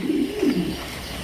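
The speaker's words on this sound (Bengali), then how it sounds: "এখানে রয়েছে একজন সুন্দরী গলা কবুতর দেখতেই পাচ্ছেন" Pigeons give soft, low coos, two or three close rolling calls within about a second, with no talk over them.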